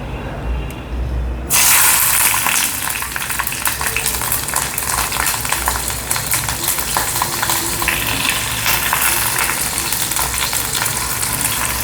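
Green chillies frying in hot oil, a loud continuous sizzle that bursts in suddenly and keeps crackling close up, with no voices.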